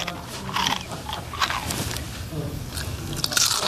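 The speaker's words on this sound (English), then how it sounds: "There's a crunching sound coming from under your bed." Crunching from beneath a bed in a sitcom household, a series of close, dry bites and crackly chews that come in irregular bursts across the whole stretch, with no clear talk over them.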